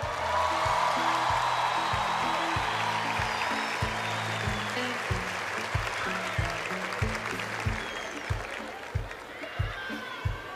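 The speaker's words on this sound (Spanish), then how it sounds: "A ver, démosle el aplauso." Audience applause at a Teletón event fills the start as dense clapping, then thins into scattered claps over steady crowd murmur, with a voice speaking over it.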